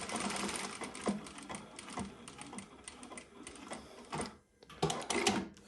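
A Prosew PS-1985 industrial sewing machine stitches a built-in pattern, a rapid mechanical clatter that pauses briefly as the stitching changes, then resumes, close and fairly quiet.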